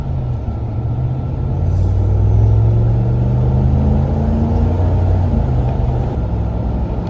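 A 2021 Dodge Ram pickup truck's engine revving from idle, a deep steady rumble that swells slightly as the throttle is pressed, close and continuous with no talking.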